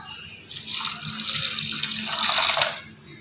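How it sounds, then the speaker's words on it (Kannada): Water is poured into a pan of soaked sago at home for a sweet payasam, a close splashing stream that swells for a couple of seconds before stopping. "ಒಂದು 2 ರಿಂದ 3 ಗ್ಲಾಸಷ್ಟು ನೀರು ಹಾಕಿ ಹಾಗೆ ಬೇಯಲಿಕ್ಕೆ ಬಿಡ್ತೀನಿ ಫಸ್ಟು"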